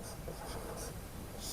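Scratchy strokes of writing on a board during a nursing lesson, faint, short rubbing bursts in a quiet room with no voice.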